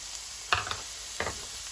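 Peppers dropped into a hot pan for a vegetable stir fry give two short sizzling bursts over a steady, faint background hiss.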